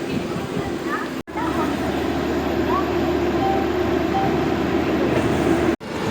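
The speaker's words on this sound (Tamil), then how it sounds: "நம்ம உதய் எக்ஸ்பிரஸ் கோயம்புத்தூர் ஜங்ஷன்லேருந்து டிபார்ட் ஆகி இருக்கான்" A Uday Express double-decker train pulls out of Coimbatore Junction, a continuous rumbling rattle of wheels and carriages heard from on board, steady and loud, with faint squeals and two brief dropouts.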